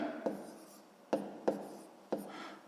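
Pen on paper while writing numbers for a fraction subtraction problem, a few soft scratchy strokes with small taps, close and quiet.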